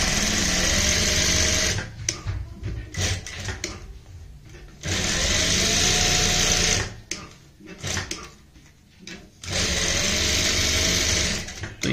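A sewing machine runs in loud, steady bursts stitching the side seam of printed fabric, with three long runs broken by brief pauses and handling clatter.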